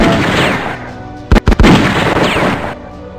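Machine gun fire and explosions in the European War 4 Napoleon strategy game, a dense rumbling barrage with two or three sharp, loud bursts near the middle, no talking.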